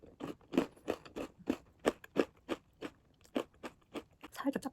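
Crisp, repeated crunches of a hard sesame potato vegan biscotti being chewed up close, a steady run of sharp bites in fairly regular rhythm with no talking.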